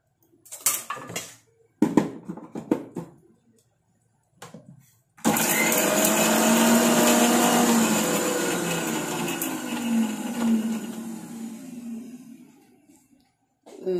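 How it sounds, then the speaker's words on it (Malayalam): A mixer grinder whirs loudly and steadily for about eight seconds while grinding ginger for a curry, preceded by a few short clattering handling sounds and ending abruptly. "ഇതിനകത്തേക്ക് ഇഞ്ചി ഇട്ടിട്ട് ഇങ്ങനെ കറക്കിയെടുത്ത് കറി വയ്ക്കാനേ"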